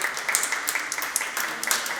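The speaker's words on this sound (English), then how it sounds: "Let's give her a round of applause, Dr. Diaz." Moderate applause from an audience at a press conference, a steady patter of clapping hands for a couple of seconds with no voices over it.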